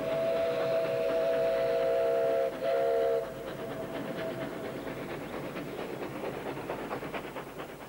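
A railway train runs with a steady rumble. A loud whistle blows at the start, then the clatter of wheels rolls on at a constant level.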